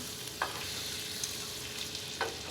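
Butter sizzling in a pan alongside French toast, a soft, fairly quiet sizzle with a few brief scrapes as it is mixed around, no voices.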